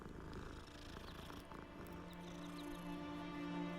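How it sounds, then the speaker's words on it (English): A cat purrs in Hogwarts Legacy, a soft, steady low rumble held throughout, faint and close with light background ambience and no talking. "Kitty cat."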